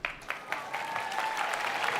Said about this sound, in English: EA gets applause.